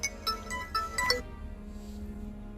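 A mobile phone ringtone sounds out in repeated melodic bursts during a talk about a court case, then cuts off after about a second, leaving a quiet room.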